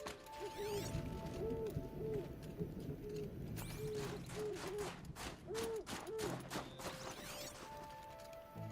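A game owl in Horizon Zero Dawn gives a series of soft, repeated hoots against a busy ambient bed of birdsong and rustling, with a few sharp clatters partway through.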